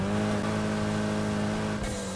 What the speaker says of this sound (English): I actually forgot to change the exhaust sound on this Evo